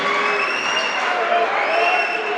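Steady, dense crowd murmur and chatter fills a men's college volleyball gym during a spin serve, loud and continuous with no clear peaks.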